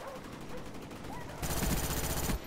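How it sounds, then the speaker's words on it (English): Attack dogs from a Call of Duty Black Ops killstreak, with barking mixed into rapid automatic gunfire that grows louder midway. "Another freaking set of dogs."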